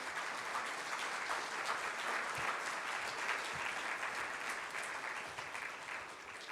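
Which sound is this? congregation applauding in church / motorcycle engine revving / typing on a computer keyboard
congregation applauding in church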